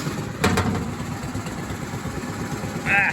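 A Jeepster Commando engine idles steadily with a low, rumbling drone. It is fairly loud and close, with a couple of faint clicks and a brief high tone.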